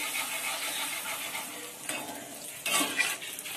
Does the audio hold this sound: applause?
no